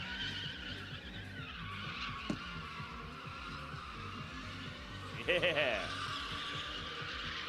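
A drift car spins big smoky donuts at a drift pit, tires squealing in long wavering bursts over a steady engine drone, with a sharper screech near the end and a brief voice.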